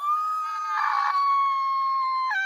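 A woman's loud, sustained high-pitched scream, held steady for over two seconds with a brief rougher burst in the middle, clear and alone.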